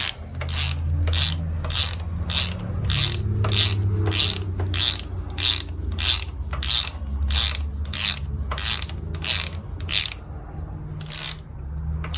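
Ratchet snugging up a strut bolt on a 2002 Acura TL Type S during a front strut replacement, a close, steady run of sharp clicking strokes in regular rhythm with a low hum underneath.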